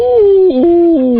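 A man imitates a Count Floyd style howl on a radio talk show, one sustained wavering howl lasting about a second with stepped pitch shifts, loud and close with no other sounds.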